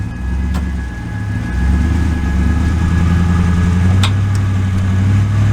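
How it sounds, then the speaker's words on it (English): Jeep Wrangler stuck in mud with its engine droning loudly and rising as it revs while the wheels spin, a steady low rumble that rises and falls, with no talk over it. "Oh, the Jeep's spinning."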